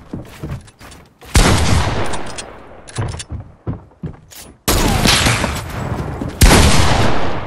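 Loud bursts of automatic gunfire from a Fortnite match, several rapid volleys separated by short gaps, with the final two long sustained sprays filling the second half.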